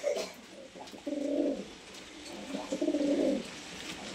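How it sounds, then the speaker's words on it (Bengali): Several pigeons coo in a loft of fancy colour pigeons kept for sale in Kolkata, two clear bouts of low, rolling cooing that rise and fall at moderate distance with no talk over them. "খুব ভালো কালার পায়রা, আপনারা দেখুন কোয়ালিটি খুব ভালো ওভারঅল।"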